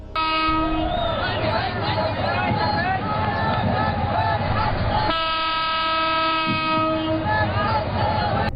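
A crowded passenger train rolls past with its wagons, carrying a steady heavy rumble and rail noise under a long sustained horn blast that shifts pitch midway.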